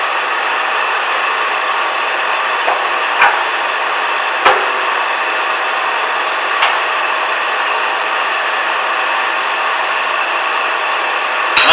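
A gouge cuts a wooden bottle stopper spinning on a wood lathe, producing a steady whirring hiss with a few sharp ticks and knocks, close and fairly loud.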